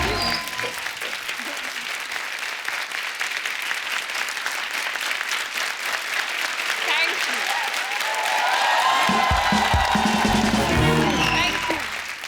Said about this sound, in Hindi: इतनी लंबी तालियां इन्होंने कभी नहीं बजाई